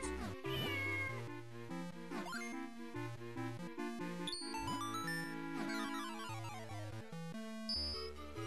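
A cat meows repeatedly in The Legend of Zelda: The Minish Cap video game, its cries set against the bright chiptune music of the game and clearly audible with no talking.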